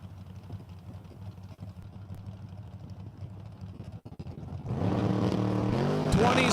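Drag racing cars launch at Empire Dragway in a WDRA points race: a steady engine drone builds, then a loud, harmonic-rich roar surges in about two-thirds through and holds near and powerful to the end.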